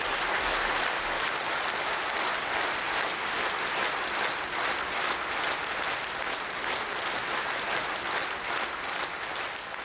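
Sustained audience applause follows Uzbek songs performed at the Shanghai Cooperation Organisation summit in Bishkek, with dense, steady clapping filling the whole span without a break.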